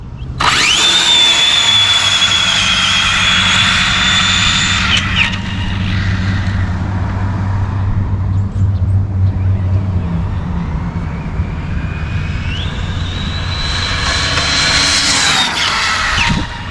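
Arrma Infraction RC car driving fast, a loud high-pitched electric motor whine that climbs, holds, drops away in the middle and surges again, close and continuous.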